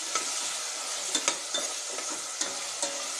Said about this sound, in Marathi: सर्व आता मिक्स करून घ्यायचं आहे